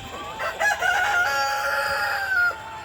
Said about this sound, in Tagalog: Napakagandang mga manok, oh.